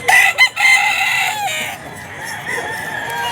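A rooster offered for sale at a local market crows loudly and close, one long call lasting over a second, followed by quieter clucking with a faint background murmur.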